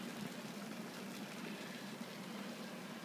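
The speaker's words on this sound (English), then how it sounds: "Okay, we've got ourselves up to a rolling boil." Homebrew wort at a rolling boil in a pot, a steady low bubbling roar with a constant hiss, continuous and fairly quiet throughout.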